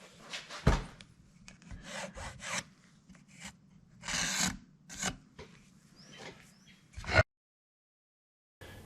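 A pencil or marker traces around a puck template on wood while building a trolling motor stand, giving a series of short raspy scraping strokes in uneven bursts, close and fairly quiet, ending in silence.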